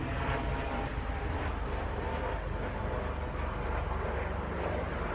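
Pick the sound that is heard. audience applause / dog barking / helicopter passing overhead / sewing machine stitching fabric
helicopter passing overhead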